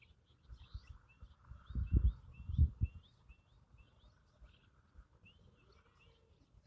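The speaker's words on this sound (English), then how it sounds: "The birds are singing." Birds sing at sunrise on a homestead with goats nearby, faint high chirps repeating steadily in the distance over low rumbling thumps and quiet outdoor ambience.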